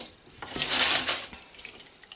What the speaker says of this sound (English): rinse it with some water and get what's still sitting on there